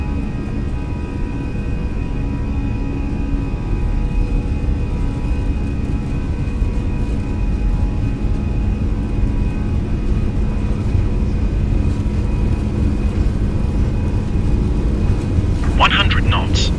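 Scandinavian Airlines airliner engines spooled to takeoff thrust from Oslo toward Bergen, a loud steady roar and rumble heard from the cockpit, with brief crew voices under it.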